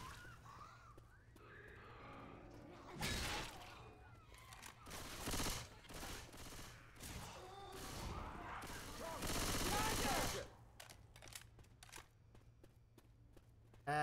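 Gunfire bursts in Left 4 Dead 2, with rapid volleys and blasts clustered in the middle stretch, loud against a steady background hum with game noise around them.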